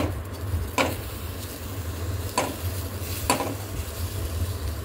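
A spoon stirs fried gram flour and onion masala with fresh coriander in a pan, producing a low background hiss and three distinct scraping strokes spaced out over several seconds, close and without talk.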